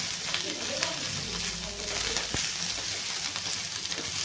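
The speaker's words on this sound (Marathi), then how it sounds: "खोबरं, अद्रक, लसूण त्याला पण आपण छान मस्त परतून घेऊया" Coconut, ginger and garlic sautéed with browned onion in a pan for chole masala, a steady, moderately loud sizzle with a few spatula scrapes.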